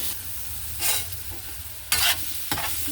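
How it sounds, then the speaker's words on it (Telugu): Ginger garlic paste frying in a pan, a steady close sizzle with a few short bursts of stirring scrapes over a low background hum. "అల్లం వెల్లుల్లి పేస్ట్ కూడా వేయిస్తాను"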